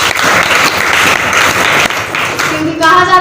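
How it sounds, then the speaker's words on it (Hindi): Loud applause from an audience at a talk or gathering, a dense burst of clapping that carries on for a few seconds before fading into a tonal sound at the end. "इनके नाम पर जोरदार ताली।"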